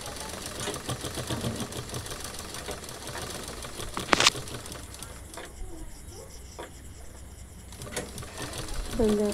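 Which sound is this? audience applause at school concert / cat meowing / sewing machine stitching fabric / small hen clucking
sewing machine stitching fabric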